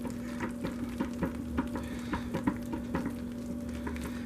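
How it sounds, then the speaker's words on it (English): Hot process soap being stirred in a pot, a steady rhythmic series of soft scraping, sloshing strokes roughly every half second over a constant low hum, no talking. "So all we need to do at this moment right now is just stir."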